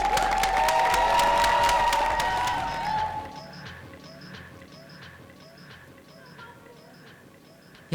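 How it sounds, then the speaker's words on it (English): A live audience at a DC Youth Poet Laureate finalist reading claps and cheers loudly for the next poet. The applause fades after about three seconds, leaving a quieter room. "I need you to start clapping right now."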